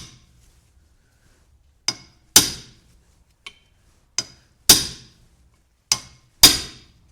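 An impact tool hammering at a stubborn broken bolt on a BMW E30 through a quarter-inch Allen socket: six or seven sharp metallic strikes in irregular succession, close and loud, with silence between them.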